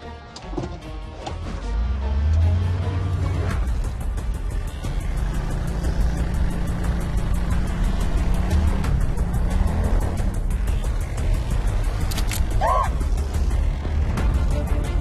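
A car engine starts and the car drives off, a steady engine roar building and holding close for most of the stretch.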